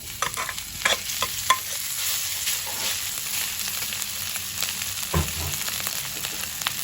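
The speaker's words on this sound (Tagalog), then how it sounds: "ready na yan dahil brown na yung aking bawang" Garlic browning in a pan, a steady close sizzle with a few spatula scrapes and taps, no voices.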